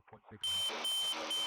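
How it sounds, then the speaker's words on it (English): A stall warning alarm in a Tecnam P2006T cockpit cuts in after a brief bit of talk, sounding as a loud, steady, piercing electronic tone that holds to the end. "So we had a little of an alarm."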